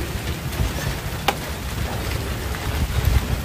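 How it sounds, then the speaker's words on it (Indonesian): Light drizzle heard from inside a shelter hut beside a reservoir, a steady soft patter with wind noise and a single sharp tap, fairly quiet and without voices. "hujan rintik-rintik neduh dulu di gubuk sini"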